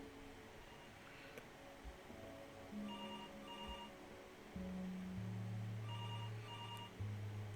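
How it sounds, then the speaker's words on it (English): A telephone rings in the video game Before Your Eyes, with repeated paired electronic ring bursts standing out over a low ambient drone and steady sustained tones, with no talking. "Answer the phone."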